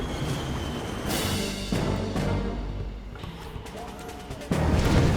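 Red Alert 3 video game Proton Collider superweapon striking, a heavy barrage of booming blasts and crashing impacts that rumble on and off, swelling again at the end, with game sounds layered throughout.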